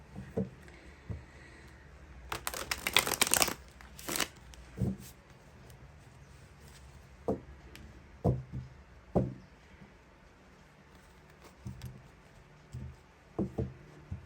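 Tarot cards shuffled and drawn from a deck, soft papery riffles and slides with a brief louder flurry of shuffling followed by scattered quiet taps and card placements, no voice.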